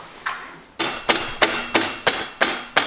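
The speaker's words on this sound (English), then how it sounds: "if you smash your bearings on with a hammer, raw, it will be hard to put the axle through them" A hammer strikes raw bearings onto a custom build's axle in about six evenly spaced, sharp metallic blows after one lighter tap. The hits are close and loud, with no talking.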